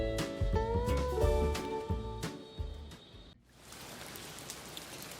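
Artificial rain falls inside a home aquarium, a steady soft patter of drops that rises to a dense hiss after a stretch of gentle background music fades out.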